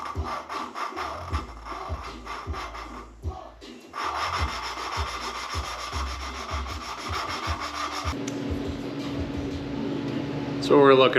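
Engine valves on a small-block being lapped by hand with rough grinding compound: repeated close scraping, rubbing strokes in an irregular rhythm that turn to a steadier gritty rasp, with a voice talking at times.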